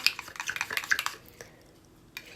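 Seedless jam being stirred in a bowl for shortbread biscuits, a quick run of clinking, scraping utensil-on-bowl taps close up, then a pause and one last light knock.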